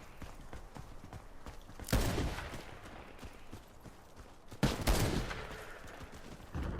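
Gunfire in the first-person shooter Warface, a steady patter of rapid shots with two heavier, louder bursts standing out partway through, no voices over it.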